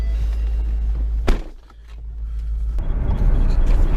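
A warmed-up car engine idling steadily with a deep low rumble, close and loud, with a brief dip in level partway through before the drone returns.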